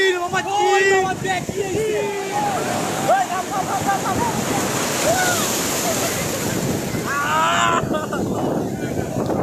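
Sea waves wash steadily onto a beach shore, a loud continuous surf with wind noise, while voices talk over it throughout.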